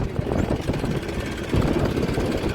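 Steady low engine idle with a throbbing mechanical chug, running in first gear on a farm where sugarcane is sown, loud and continuous with no talk.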